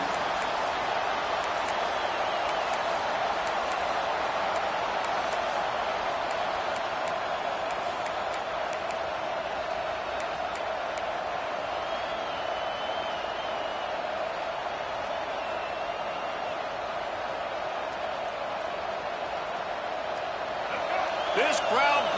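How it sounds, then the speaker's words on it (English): Stadium crowd noise in a football video game, a steady, broad roar of the crowd lasting throughout, with a faint rise near the end. "This crowd bringing the energy and noise early."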